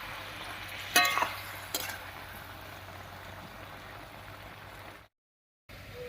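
Bottle gourd and fish curry masala simmers in a pan with a soft, steady sizzle; a couple of sharp utensil scrapes and clinks come near the start, and the sound cuts out briefly near the end.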